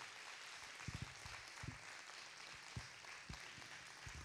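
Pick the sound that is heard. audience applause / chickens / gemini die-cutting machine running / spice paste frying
audience applause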